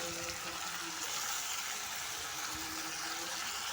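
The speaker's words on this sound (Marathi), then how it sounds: "आता हे चिकनचे तुकडे आपण याच्यामध्ये टाकून घेऊया आणि चांगलं परतून घेऊया" Chicken pieces sautéing in a hot pan, a steady soft sizzle and hiss running throughout, with faint scraping from stirring.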